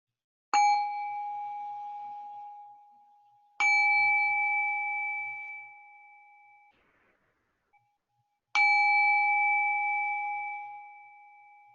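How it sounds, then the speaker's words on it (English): Three separate strikes of a meditation bell closing a sitting, each a clear ringing tone that sustains and slowly fades before the next, in an otherwise quiet room. "I'm going to go ahead and ring the bell to conclude our sitting tonight."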